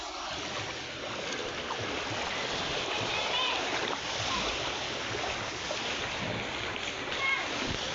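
Water pours like a small waterfall into a flooded street during a flood in Cabanatuan, a steady broad rushing and splashing heard from nearby at moderate level.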